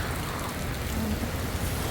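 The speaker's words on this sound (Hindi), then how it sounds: "और देखो ज़रा इस तरफ से बारिश भी शुरू हो गई फिर।" Steady rain falling outdoors just after a windstorm in the NCR, a continuous broadband hiss with soft patter, fairly close and unbroken throughout, no voices.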